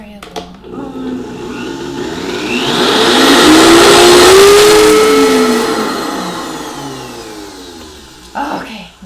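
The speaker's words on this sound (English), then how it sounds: "We're just going to blend that one more time." Variable-speed blender whirring through avocado cilantro hummus, its loud motor pitch rising and falling as it churns for several seconds, close up, with a brief voice at the end.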